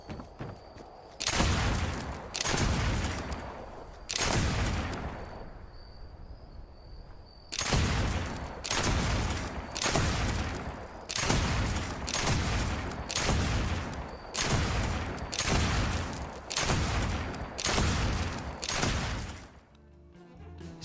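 A hand cannon fires in Fallout 76, with about fourteen loud, booming shots, each ringing out with a long tail. A short burst of three comes first, then a pause, then a steady rhythmic string, all close and without voices.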